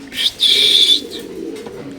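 A Black Beauty fancy pigeon gives a soft, low coo close by, while a brief high-pitched squeal rings out near the start.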